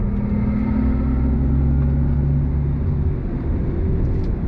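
A 2023 Mercedes-Benz EQE 350 electric sedan accelerating through a right-hand bend, a steady loud low road and tyre rumble with a faint motor whine, no voices.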